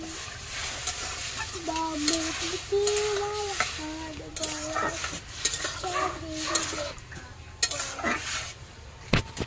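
Small stream fish with tomato and spices sizzle steadily in a pan while a utensil stirs and scrapes against the metal, with clinks of cookware throughout; brief tonal sounds rise briefly above the frying.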